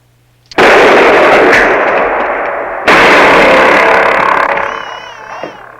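Two loud, close gunshot blasts go off a couple of seconds apart, each with a long booming tail.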